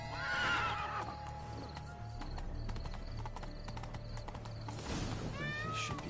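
A horse whinnies loudly in The Witcher 3, then hooves clop steadily along, ending with another high, shrill neigh close by.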